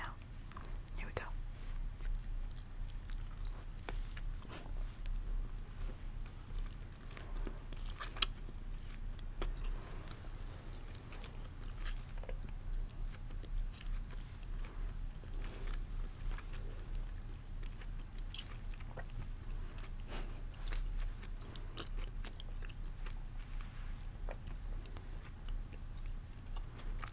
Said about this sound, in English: chewing sounds